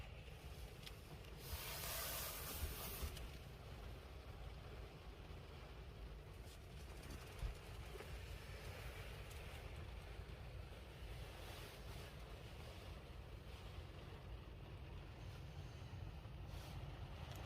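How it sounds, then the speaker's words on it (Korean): Steady wind and rain outside a car parked at Daecheon beach during car camping, a continuous broadband wash with a brief louder gust near the start and no talk. "어제는 바람이 불더니 오늘은 비가 오는구나."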